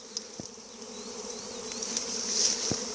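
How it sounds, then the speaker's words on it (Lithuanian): A swarm of honey bees at a crowded hive entrance gives a steady, dense buzzing. It is quiet and even, with a few individual bees droning close by and no voices. "Bitės jau eina spėtiniam. Aplypa visas įėjimas."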